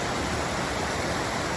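Ruby Creek flows through rocky mining ground near a culvert, a dense, continuous rushing hiss of running water, close and steady throughout with no voices.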